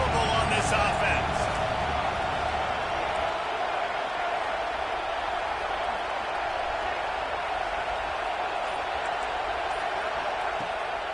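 A dense, steady roar from a stadium crowd at an Arkansas football game on a fourth down fills the clip, loud and unbroken throughout.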